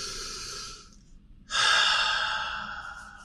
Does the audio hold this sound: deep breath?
yes